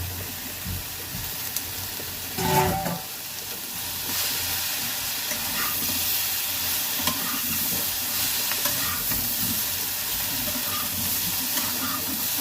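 Fish curry with Malabar spinach being stirred in a frying pan: a constant sizzle and steamy hiss with a brief louder scraping burst of the spatula early on, close and steady, no talking.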